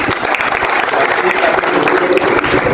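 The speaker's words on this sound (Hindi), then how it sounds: "एक बार जोरदार तालियां बजाते हैं।" Loud, dense applause from a seated audience at a journalists' association gathering in the Bhandara–Gondiya region, sustained clapping throughout with a faint crowd murmur underneath.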